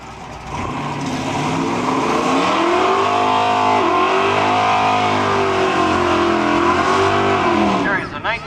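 A 1970 Ford Mustang and a 1966 Ford Fairlane launching side by side on a drag strip, engines roaring loud and close, with pitch climbing and falling in sweeping rev changes before the noise cuts off abruptly near the end.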